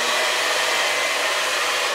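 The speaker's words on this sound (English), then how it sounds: "I usually take the hair dryer and just dab it a little bit." A hair dryer blows with a loud, steady rushing whir, held without change and no voices over it.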